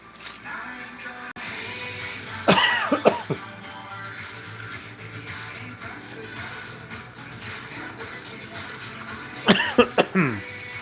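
Two separate clusters of sharp coughs, a few quick hacks each, over a low steady background hum.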